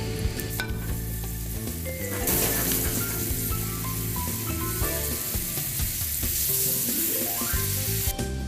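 Food dusted with barley flour fries in a pan with a loud, crackling sizzle that surges after a moment and keeps going steadily, with soft music underneath.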